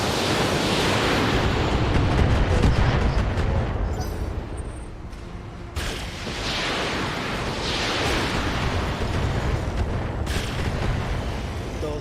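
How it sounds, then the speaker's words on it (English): Large pulse laser and a volley of ten rockets firing in the mech game Roguetech, heard as dense, roaring broadband blasts that surge and roll continuously, with brief dips in between. "That was a large pulse and 10 rockets that came off of here"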